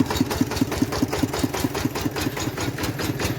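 A small single-cylinder walk-behind tractor engine idles with a steady, fast chugging thump, close and loud, with no voices.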